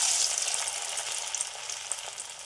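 Chira (flattened rice) fries in a hot pan with a bright, continuous hiss that stays loud and close, fading slightly toward the end with a few soft crackles.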